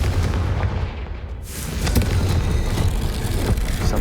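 A Confringo fire spell goes off in the Hogwarts Legacy video game, sounding as a sudden broad blast at about 1.5 seconds that rolls into a sustained, loud rumbling crackle lasting to the end.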